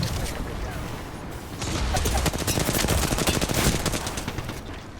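Rapid automatic gunfire in Apex Legends, dense loud bursts of shots that swell midway and stay heavy, with a player talking intermittently underneath.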